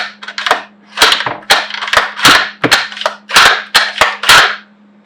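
A long-range rifle's bolt is cycled briskly again and again after a trigger swap, producing a rapid series of sharp, loud metallic clacks and snaps close by, with brief pauses between strokes.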